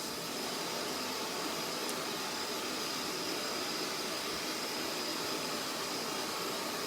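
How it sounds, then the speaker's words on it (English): A lightweight, compact blow dryer runs steadily during a salon bob haircut, giving a constant, even, airy whir that stays fairly quiet throughout. "this is quite a nice blow dryer to use because it's very lightweight and compact"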